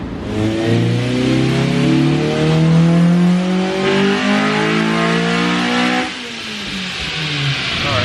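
A Honda Civic Si engine revs loudly and steadily up close, the pitch rising and wavering, then dropping suddenly to a lower idle near the end.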